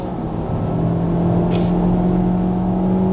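Honda Civic Type R accelerating hard around the Le Mans circuit, a steady loud engine drone with a constant tone held throughout, heard from inside the car.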